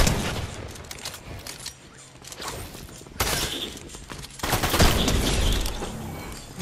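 Rapid bursts of gunfire crackle through a street racing video game, scattered shots early on swelling into louder, denser volleys toward the end, with no one talking.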